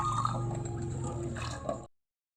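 Ghatkol leaves being washed in water, with soft squishing, dripping and gurgling at close range for under two seconds before abruptly cutting to silence.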